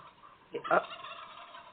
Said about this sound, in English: I heard there were a couple of turkeys running around in the studio